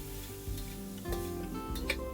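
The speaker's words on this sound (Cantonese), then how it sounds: "咁啊爆香佢" Pork lard cracklings sizzle quietly in a wok while being stir-fried, with a low steady hiss and a few faint scraping clinks of the spatula.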